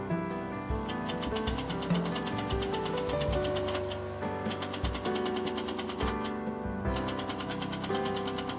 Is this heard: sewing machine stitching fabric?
yes